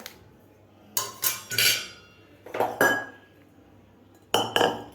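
Metal cookware clanks and scrapes in a few sharp bursts, a heavy-bottomed kadhai set down and shifted on a hard surface.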